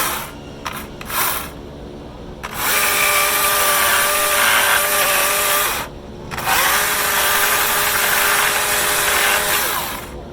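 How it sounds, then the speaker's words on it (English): A Husqvarna 120i electric chainsaw cuts through cedar in a high school wood shop, its motor whining loud and steady through two long bursts separated by brief pauses, with a few short revs at the start. "I really like this electric chainsaw in the high school wood shop"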